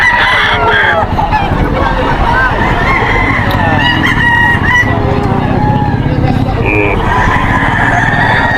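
Gamefowl roosters at a market crow and cluck loudly and continuously, several birds overlapping close by, with voices talking in the background throughout.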